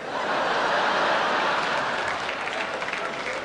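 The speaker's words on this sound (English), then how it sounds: "while you were laughing and applauding" An audience at a command performance applauds steadily: dense, even clapping throughout, with a light chuckle mixed in, fairly loud and slowly easing toward the end.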